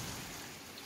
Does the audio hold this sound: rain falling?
yes